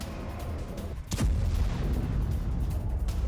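Artillery shelling by Afghan forces in news footage sounds as a single dull, distant boom that rises out of steady background rumble and noise, with no voices over it.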